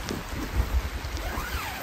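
A heavy tropical downpour arriving around a military tent, heard as a brief, steady roar of rain with low rumbling underneath and no voices.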